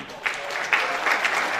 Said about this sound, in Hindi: आइए एक बार फिर हम मिलकर जोरदार तालियां बजाएं सुश्री इशिका सिन्हा के लिए